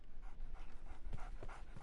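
A dog in a Sherlock Holmes video game pants in quick, rhythmic breaths, close and fairly soft, with no talking.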